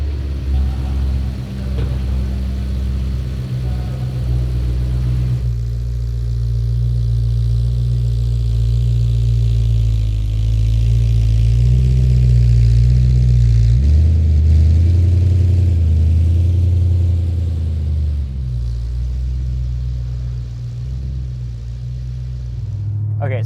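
A BMW E92 M3 with a Magnaflow exhaust idles and rumbles while backing out, a loud, steady, deep engine drone with slight swells, close by and continuous.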